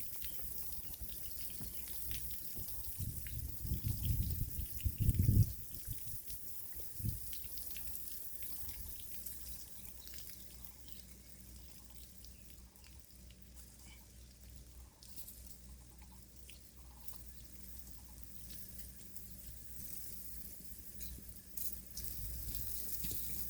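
Water from garden irrigation, used for newly grown kidney beans, runs and patters in a steady, quiet flow. A brief louder splash comes near the start, and no one speaks.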